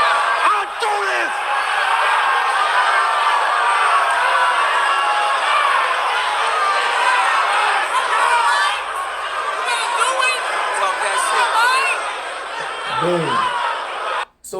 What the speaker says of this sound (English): throughout this whole crowd reaction